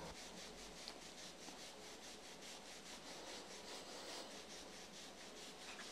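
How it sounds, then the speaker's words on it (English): Hands rub up and down the inside of a person's thighs during an applied kinesiology session, giving a steady, close, soft friction sound with a faint repeating rhythm and no talk. "I'm just gonna rub up inside the thighs"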